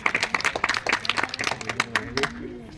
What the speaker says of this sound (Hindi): तालियां भी मैडम के लिए।